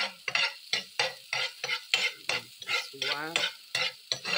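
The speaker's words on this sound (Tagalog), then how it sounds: "Pa-brownin lang natin yung sibuyas" Sliced onions fry in a pan, a steady sizzle broken by repeated scraping strokes of a spoon or spatula, about two per second, close by; a voice speaks briefly.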